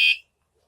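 A Wsdcam 113dB wireless vibration alarm mounted on a motorcycle lets out a loud, piercing electronic shriek after the bike is bumped, cutting off abruptly after a fraction of a second and leaving near silence.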